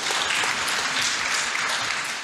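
Meeting audience applauds a speaker, dense steady clapping that fills the whole short stretch, fairly close and loud, with no voice over it.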